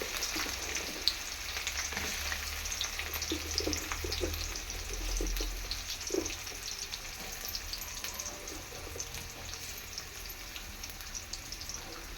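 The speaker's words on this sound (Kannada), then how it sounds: "ಇವಾಗ ಈರುಳ್ಳಿ ಜೊತೆನೇ ಹಾಕ್ತೀನಿ ನಾನು, ಯಾಕಂದರೆ ಅದು ಪಟಪಟ ಅಂತ ಸಿಡಿಯುತ್ತಲ್ಲ" Onion and curry leaves fry in oil for Mandya-style vangi bath, giving a steady close sizzle with scattered crackling pops and occasional stirring throughout.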